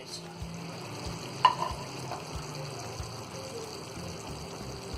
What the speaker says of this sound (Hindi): इन सारी चीज़ों को अब अच्छी तरह भून लेंगे